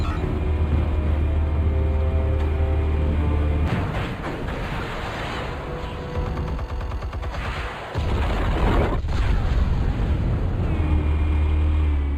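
Explosives going off in a Batman video game scene, heard as a continuous loud rumble with bursts of booming, crackling blasts and a low engine-like drone, without talk.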